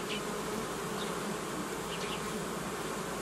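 Honey bees at a hive holding a developing colony with a young queen give a steady, dense buzzing drone, close and continuous, with no voices.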